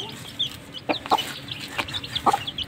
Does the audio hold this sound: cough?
no